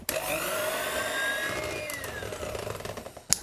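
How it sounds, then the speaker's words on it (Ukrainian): A hand mixer runs at low speed as coffee liqueur is blended into whipped cream for a coffee-flavoured cake, a steady close motor whine with rising and falling harmonic pitch, ending with a short clatter. "Додаю сюди кавовий лікер. Та вже на маленькій швидкості перемішую до однорідності."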